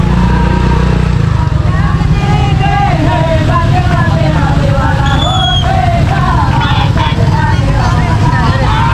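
Night traffic jam in the centre of Bangkalan city: a steady, loud wash of car and motorcycle engines with crowd babble throughout, and a few brief tonal calls rising over the congestion.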